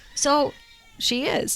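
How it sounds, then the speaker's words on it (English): Pet cat meowing in the background of a room, short nasal cries around two bursts, partly overlapping a woman's speech nearby. "if you can hear her meowing in the background"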